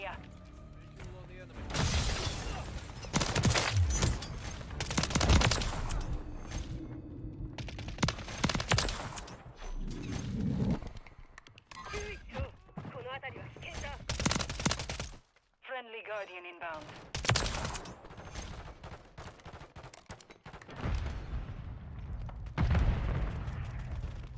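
Gunfire from Call of Duty Modern Warfare 3 with a WSP 9 and a pistol, loud and dense, bursts and single shots breaking out again and again through most of the stretch, a near-silent gap midway, with game effects layered in.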